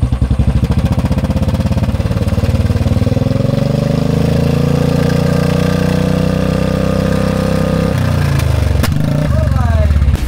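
A motorcycle engine, a Bullet-type single-cylinder, revs hard and holds a loud, sustained roar close by, then drops back sharply near the end, with speech briefly heard over it.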